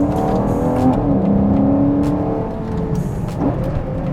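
A Ferrari Purosangue pulls hard in second gear on a narrow forest road, its engine note rising steadily from the cabin, loud and continuous with a smooth climbing hum and brief whirs.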